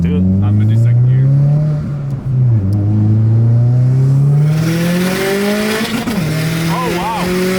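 A car engine revs hard and climbs steadily in second gear with a loud, rising drone, easing briefly and then building again, while people talk inside the cabin.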